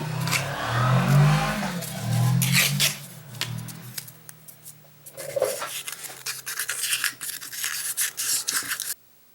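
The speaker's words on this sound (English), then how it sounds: "I'm going to buff the seat real quick." A valve seat on a 1994 Saab 9000 cylinder head is buffed in short bursts of whirring, rasping grind, strongest at first, then lighter scraping passes before stopping abruptly.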